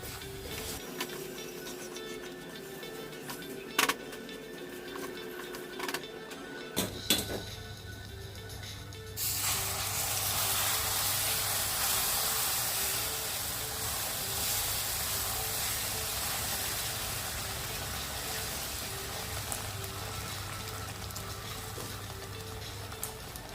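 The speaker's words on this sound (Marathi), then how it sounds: "आता ह्याच्यात आपण दूध पाणी घालूया" Milk and water hit roasted semolina in a hot pan, setting off a sudden loud, broad hissing sizzle that keeps going steadily after a quieter stretch of low hum and faint clinks, with no talking.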